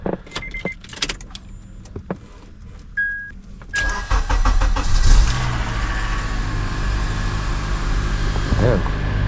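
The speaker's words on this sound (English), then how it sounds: "That was a pretty smooth startup. It like quick little rattle and it started right up." A rebuilt TSX car engine is cranked: a few clicks and short bursts, then it catches around the four-second mark and settles into a steady, close idle.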